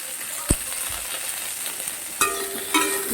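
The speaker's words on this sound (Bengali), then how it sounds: "শিমগুলোকে আমি হালকা করে ভেজে নেব" Flat beans fry lightly with a pinch of salt in a pan of oil, giving a soft steady sizzle broken by a few sharp clicks and stirring scrapes.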